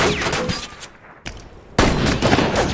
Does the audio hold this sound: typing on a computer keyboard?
no